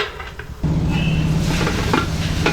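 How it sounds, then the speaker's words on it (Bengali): A lid set onto a wok holding a bowl of eggs in water for Bengali steamed egg (bhapa): one sudden metallic clunk, then a sustained ringing hum and light clatter up close. "এবার একটা ঢাকা দিয়ে দেব।"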